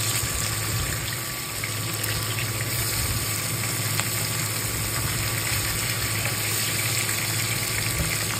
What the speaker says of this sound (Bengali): এই কারণে একটু কড়া করেই ভাজবো।